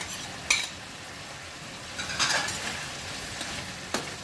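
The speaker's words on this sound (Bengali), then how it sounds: "চিংড়ি মাছগুলো মিশিয়ে দিচ্ছি" Prawns tumble into a pan and are stirred through a cucumber and prawn curry, a few clinks and scraping stirs standing out over a steady low sizzle, close and moderately quiet.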